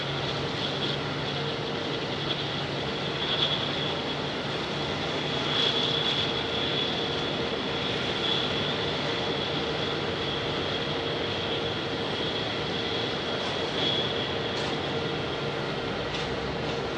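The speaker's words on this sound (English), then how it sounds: "A321neo." An Airbus A321neo airliner at Phoenix Sky Harbor Airport gives off a steady jet engine roar with a faint high whine, a sustained rumble heard alone at moderate distance.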